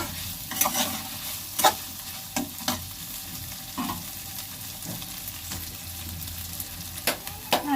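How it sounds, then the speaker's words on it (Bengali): A spoon stirs grated coconut frying in a pan for a home-cooked dish, giving a low steady sizzle broken by several sharp scraping clicks at irregular intervals, close and fairly quiet, with no talking. "নারকেলটা দিয়ে ভাজা হয়ে গেছে"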